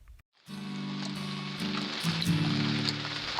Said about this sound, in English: It wasn't too heavy, but it was still raining.